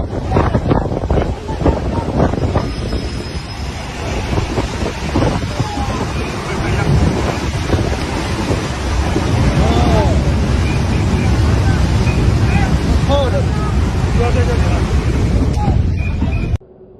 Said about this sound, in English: The strength of the moving water was so much that it swept such an impressive amount of huge rocks from a riverbed.